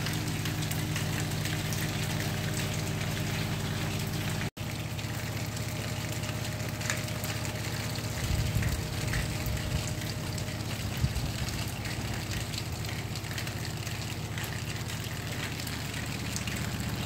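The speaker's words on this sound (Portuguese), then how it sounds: "Chuva abençoada." Rain falls steadily outdoors at a rural smallholding, a dense continuous hiss of drops with a brief gap and a few louder splashes midway, no voices.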